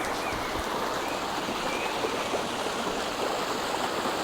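Water flowing steadily near rice paddies, a continuous close rushing wash like a stream or channel running without pause, with no voices over it.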